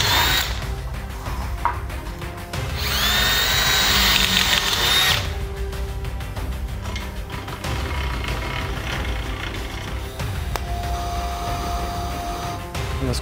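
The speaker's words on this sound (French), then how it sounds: "Avant de le courber, il faut percer les trous là-dessus." A power drill bores holes in metal rings for a basketball shooting machine, with a loud, close whine that rises in one sustained burst, then continues in shorter intermittent runs over workshop noise.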